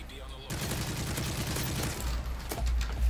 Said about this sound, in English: Sentry gun is taking heavy fire.